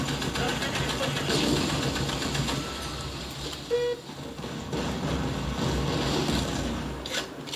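Vehicle engine in Battlefield Play4Free, a steady mid-pitched running drone with a slight knocking texture that continues throughout, with gameplay noise layered on top.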